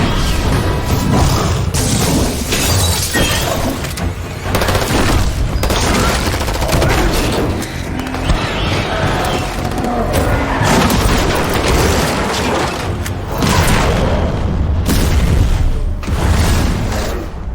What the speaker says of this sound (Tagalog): pinasabog ng grupo ang isang gas station na nasa pinakamalayong distansya hanggat maaari